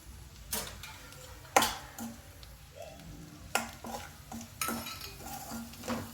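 Spice masala frying in oil for a mushroom and cashew curry, a low sizzle under sharp metal clanks and scrapes as a spoon stirs the pan in irregular bursts.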